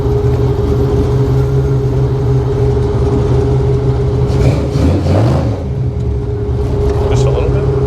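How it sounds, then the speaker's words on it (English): Engine of a 1955 Chevy Nomad gasser hot rod with a stick shift, idling and rolling slowly, a loud, steady low rumble heard from inside the car that swells slightly midway, with no talking. "we'll idle through like Miss Daisy here"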